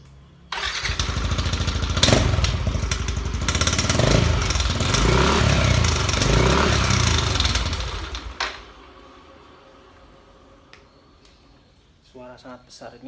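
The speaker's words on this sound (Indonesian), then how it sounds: "knalpot racing dengan suara yang lumayan besar ya, walaupun tipe series, silent series, tapi ini suaranya masih sangat besar." Racing motorcycle exhaust of the so-called silent series, very loud and raspy, revved hard for about eight seconds with rising and falling pitch, then dropping to a quieter idle with faint sounds afterward.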